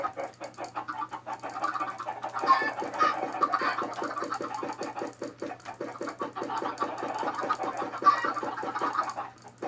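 Minecraft chickens cluck in a steady rapid chatter over a low constant hum, moderately loud and continuous, with no speech.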